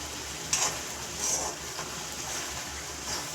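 Tomatoes sizzle in a pan on a gas stove for a Punjabi dish. The frying hiss is steady and fairly faint, with a few stirring scrapes and surges rising above it.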